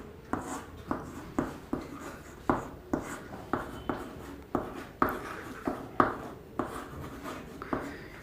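Chalk or marker writing a relation on a board during a physics lesson: a regular series of short scratchy strokes, about one and a half per second, fairly close and clear with no talk over them.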